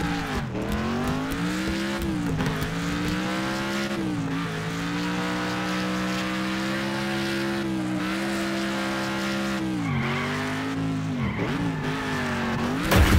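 A car in the racing game Next Car Game drifting around a corner, with a loud, sustained engine whine and long tire squeal that rises and falls steadily, close and continuous throughout with no voices.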